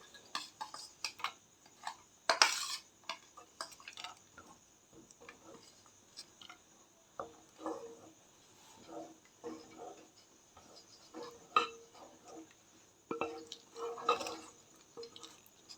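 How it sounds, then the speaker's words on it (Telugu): Bottle gourd payasam being served into a bowl: faint, scattered clinks and taps of a spoon against dishware with soft liquid sounds, quiet and intermittent, no talking. "ఇంకొక బౌల్లోకి సర్వింగ్ చేసుకుందాము."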